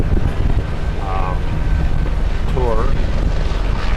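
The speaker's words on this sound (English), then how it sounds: "There's a series of helicopters coming in" Several helicopters flying in over Skagway, Alaska, heard as a steady, loud low rotor and engine rumble with wind buffeting the microphone. A person talks over the noise.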